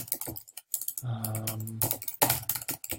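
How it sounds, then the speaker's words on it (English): Rapid keystrokes on a computer keyboard tapping out a search, a close, crisp burst of clicks broken by a short pause and a low hum before the typing resumes. "you can go to google.com and then just simply type in a site colon search"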